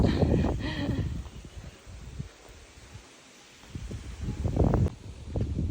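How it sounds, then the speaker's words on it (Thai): Strong wind blows outdoors at a nature resort in a valley, buffeting the microphone in low rumbling gusts with rustling leaves, easing briefly in the middle before picking up again. "ลมแรงมาก"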